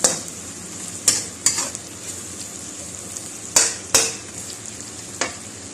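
Pork belly sizzles in its own rendered fat in a pan, a steady close frying hiss broken by several sharp scrapes and clanks of a spatula stirring against the metal.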